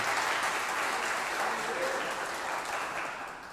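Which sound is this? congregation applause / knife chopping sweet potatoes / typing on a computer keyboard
congregation applause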